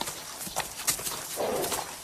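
Horse hooves clip-clop at a steady walking pace in a Western film scene, a series of moderately faint, evenly spaced clops.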